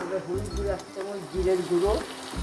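Spices sautéing in a pan for kathal danar dhokar dalna, a steady close sizzle with repeated low scraping stirs, under a voice talking.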